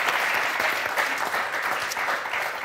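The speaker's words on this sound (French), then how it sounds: "On vous applaudit très fort." Studio audience applause on the French game show Motus, dense and steady clapping from a crowd that fills the whole stretch at an even, fairly loud level.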